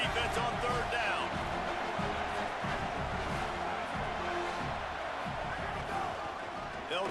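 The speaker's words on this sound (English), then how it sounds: "Decibels rising as the crowd gets behind this defense on third down." A stadium crowd at a USC football game on third down keeps up a loud, steady roar throughout, with a commentator talking over it.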